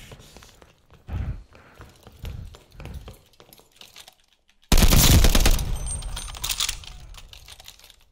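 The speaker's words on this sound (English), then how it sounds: "Just shots." Gunshots in Call of Duty Vanguard during a Search and Destroy round, first soft scattered shots and clicks, then a sudden loud burst of close gunfire that trails off into lighter shots.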